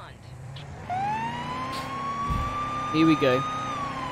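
Police car siren in the video game Police Simulator: Patrol Officers, a steady rising wail that starts about a second in and holds loud and close, with brief speech over it.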